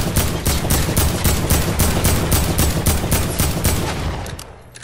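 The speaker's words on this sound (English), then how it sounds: "I'm using an assault rifle. I can't even shoot that far." Rapid bursts of assault rifle fire in a PS4 shooter game, loud and dense with a steady repeating rhythm that tapers off near the end.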